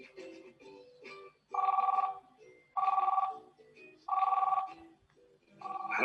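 A telephone rings in repeated bursts with short pauses between them, loud and close, with faint voices around the rings.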